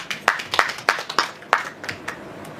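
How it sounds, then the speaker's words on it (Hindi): Scattered hand claps from an audience at a film trailer launch, about nine distinct claps spread unevenly over a couple of seconds, sparse rather than a full ovation. "दीक्षित जी के लिए जोरदार तालियां बजाइए।"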